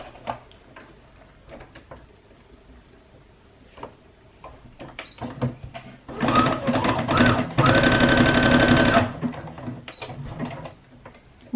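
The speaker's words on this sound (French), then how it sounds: "mieux c'est quand même de passer à la machine au point zigzag" A home sewing machine runs a zigzag stitch across the end of fabric for a hair scrunchie, a close, steady whirring burst of needle ticks that comes after several seconds of quieter handling clicks.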